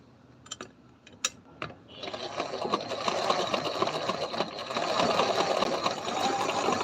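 A sewing machine stitches a boat neck blouse, starting with a few light clicks and then running as a steady, close, moderately loud mechanical whir.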